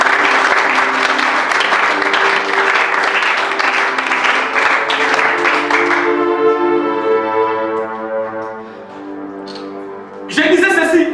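A church congregation at a worship service applauds and cheers for Jesus, a dense sustained wave of clapping and voices for about six seconds before fading into music, then a brief burst returns near the end.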